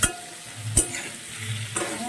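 Panch phoron and a bay leaf frying in oil in a pan, with a soft steady sizzle and a few sharp scraping strokes of a spoon stirring through it.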